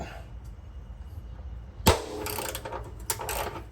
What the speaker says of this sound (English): So we'll try to do this again with the correct socket.